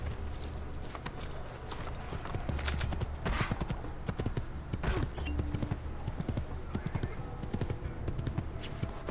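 Steady clip-clop of horse hooves on hard ground in Assassin's Creed II, with continuous ambient noise under the hoofbeats throughout.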